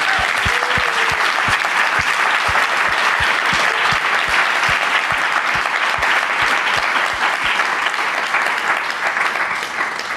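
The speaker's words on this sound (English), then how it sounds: "how about a huge hand of applause for Mayumi and I?" An audience at a lab launch event applauds steadily and loudly for the full stretch, dense clapping filling the room with no voices rising above it.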